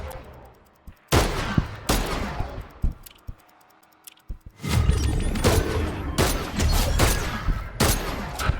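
Rapid bursts of gunfire in a Fortnite match, loud and close, with dense volleys separated by brief pauses and a heavy sustained barrage near the end.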